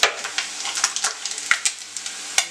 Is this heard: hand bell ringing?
no